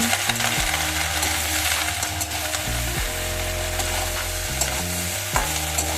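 Onion stalks frying in a pan with turmeric and salt, stirred with steady scraping strokes over a loud, continuous sizzle, with repeated rhythmic clinks of the utensil against the pan.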